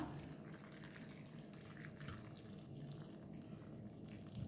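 Water pours steadily into a saucepan in a home kitchen, a continuous close splashing flow running for several seconds with no talk.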